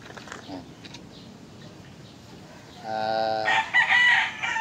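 A rooster, one of the birds being treated for coryza, crows loudly and close by in the second half. Before that there is only quiet background noise.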